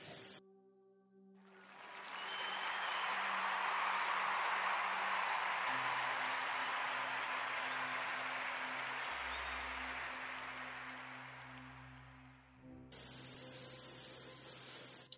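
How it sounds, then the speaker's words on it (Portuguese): On a Portuguese radio podcast show, a smooth wash of crowd applause rises after a quiet start, holds loud and steady for about ten seconds, then cuts off abruptly into other studio sound. "Quero pedir a todos uma salva de palmas"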